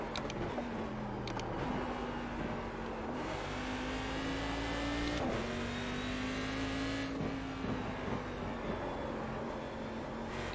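A supercharged front-engine, rear-wheel-drive Cadillac CTS-V race car in iRacing at Okayama holds a steady, droning engine note that climbs gradually through gears with brief dips at shifts and a faint supercharger whine throughout.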